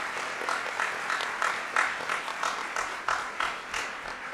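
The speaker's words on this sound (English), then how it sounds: "Can I get a round of applause for our candidates?" An audience at a city council candidates forum in Cambridge gives a short, modest round of applause, scattered claps fairly close and moderately loud.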